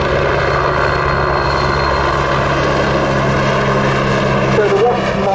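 A Wasp Mark I jet-engine helicopter from 1964 flies at a seaside airshow, making a loud, steady rotor and turbine roar that fills the whole stretch, with faint voices underneath.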